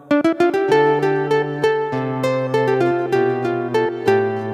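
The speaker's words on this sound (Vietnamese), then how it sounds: "Rồi tiếp theo đó là tiếng guitar nylon." A nylon-string guitar tone, likely from a keyboard, plays quick plucked notes that settle into a gently flowing phrase over a held bass, close and clear, with no voice.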